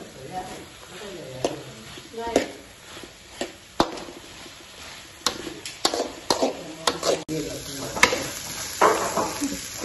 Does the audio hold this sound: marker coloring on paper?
no